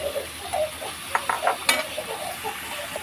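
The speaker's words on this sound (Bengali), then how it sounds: "এবার আমি কচুর ফুলগুলো দিয়ে দিচ্ছি, দিয়ে এর সাথে খুব ভালোভাবে কষিয়ে নেবো।" Colocasia flowers being stir-fried with already fried prawns in a pan, giving a soft steady sizzle with a few sharp scrapes and clinks of a spatula against the pan.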